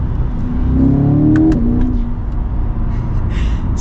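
2024 Chevy Corvette Stingray Z51 engine accelerating hard, a loud rising roar climbing through a gear before settling to a steadier drone.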